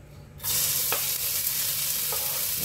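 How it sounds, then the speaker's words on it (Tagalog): A lady finger (okra) omelette drops into hot oil and bursts into a loud, steady sizzle that continues close by, with a couple of faint utensil scrapes and no talk. "mainit na ang ating mantika. Iprito natin ng bahagya"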